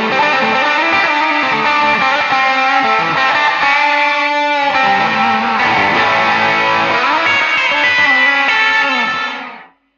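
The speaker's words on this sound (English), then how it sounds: "if you want a reverb sound but you don't want any tails" An electric guitar played through an IK Multimedia X-Space reverb pedal set to reverb without tails, sounding a dense, distorted lead line with sustained chords, loud and close, cutting off cleanly at the end with no lingering decay.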